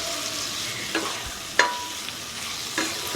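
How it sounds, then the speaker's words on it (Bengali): A spoon stirring chicken sausage curry seasoned with soy sauce, several scraping strokes against the pan over a continuous sizzle of frying, close up and with no voices. "আবারও আমি খুব ভালো করে নেড়ে দেব"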